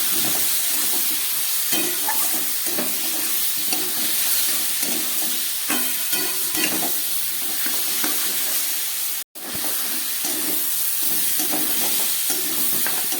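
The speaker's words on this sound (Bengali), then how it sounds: "দেখুন সবজিটাকে কত সুন্দর করে ভাজা হয়ে যাচ্ছে।" Mixed vegetables with salt and turmeric fry in a pan, a loud, steady sizzle broken by repeated scraping strokes of a spatula, with one very brief drop-out partway through.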